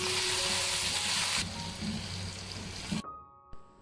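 Chopped garlic and ginger frying in oil in a pan for an aloo baingan curry, a loud steady sizzle that drops sharply partway through and cuts out near the end, with no voices.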